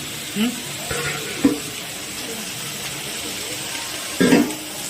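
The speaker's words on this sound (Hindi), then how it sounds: "यहाँ पर अब गोभी फ्राई कर रहे हैं" Cauliflower fries in oil in a busy cooking space, a moderate sizzle beneath intermittent bumps and clatter, with short bursts of background voices.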